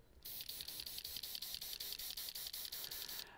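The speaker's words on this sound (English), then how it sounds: "we are going to spray that into our shadows" An airbrush sprays transparent black and red acrylic paint in a quiet, even hiss that pulses rapidly and steadily for about three seconds before stopping, with no one talking.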